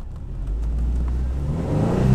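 Engine of a manual car revving steadily while a learner works the clutch, a close, continuous mid-pitched drone that swells slightly toward the end.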